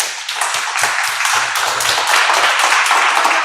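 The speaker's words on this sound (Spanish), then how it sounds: "vean un aplauso a su compañera" Classmates clap for a student at a school sculpture exhibition, a loud, close burst of many hands in the classroom, with faint low voice murmurs under the first half.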